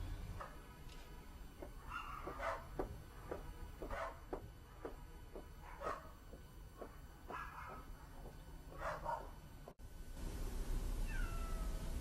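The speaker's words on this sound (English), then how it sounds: "Fucking cat." A cat meows repeatedly, about half a dozen drawn-out cries spaced a second or two apart, fairly close, over a low background rumble.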